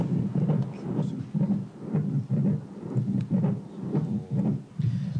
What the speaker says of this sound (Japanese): 母親の心臓の音を子供に聞かせるため